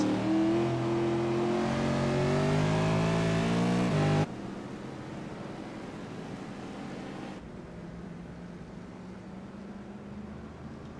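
A damaged V8 race car engine drones and revs on the New Hampshire Motor Speedway track, loud at first as it climbs in pitch, then cutting off abruptly to a fainter distant engine hum.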